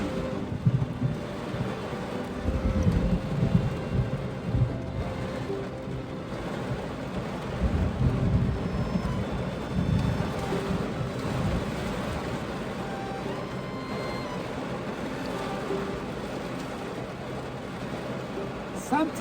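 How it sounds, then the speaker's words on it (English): Steady, dense rain pattering against a window at home goes on without a break, joined by a low rolling rumble of distant thunder that swells around the middle. "Just the sound of the rain hitting the glass excites me."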